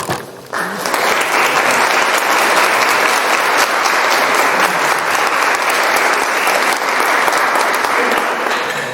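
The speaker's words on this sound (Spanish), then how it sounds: "voy a pedir un aplauso para todos vosotros" Sustained, dense applause from a crowd, starting abruptly after a brief pause and continuing loud and steady throughout.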